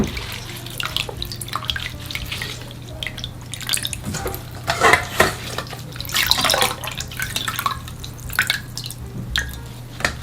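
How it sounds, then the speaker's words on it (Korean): Blanched rapeseed greens rinsed in water and drained in a sieve, with splashing, dripping and sloshing close by in irregular bursts and no talk. "열기가 빠지도록 물에 한번 헹궈서 체에 건져주세요."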